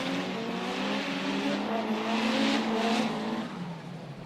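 A 700-horsepower drift car at a Vladivostok drift competition roars loud and steady, engine pitch climbing and holding high with a hint of tire noise, alone without talk.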